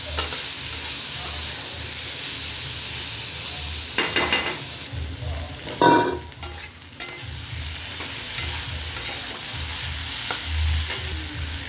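Cucumbers frying with spices and turmeric in a pan for a Bengali fish curry, a soft continuous sizzle with a few louder stirring scrapes around the middle, close and fairly quiet.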